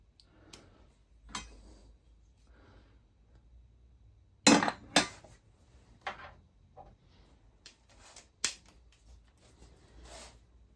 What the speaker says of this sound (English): The torque wrench right here, and that's going to get tightened down to 140 inch-pounds.